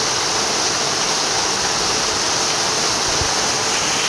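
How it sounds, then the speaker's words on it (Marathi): Rainwater rushes fast along a channel outside a house after heavy rain, a loud, steady, broadband roar filling the whole moment without pause or voices. "किती हे पाणी फास्ट वाहतं आहे"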